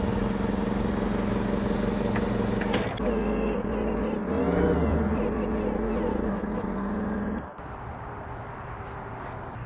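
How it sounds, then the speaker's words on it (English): Steady mechanical engine hum from a forklift lifting the front of a Jeep in a shop, a continuous drone that shifts partway through and drops in level near the end. "we're going to get the forklift to the front now"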